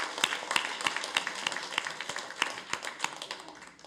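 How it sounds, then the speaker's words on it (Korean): A church congregation at a Sunday worship service claps in a steady, fairly sparse rhythm, individual hand claps standing out close and distinct throughout. "박수합시다."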